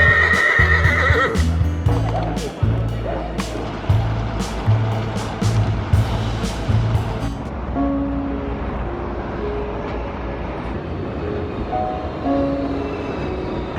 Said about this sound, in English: There be horses.